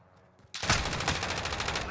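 Sustained rapid automatic gunfire in Call of Duty: Modern Warfare erupts after a quiet half second, a loud dense burst of repeated shots rattling on steadily to the end.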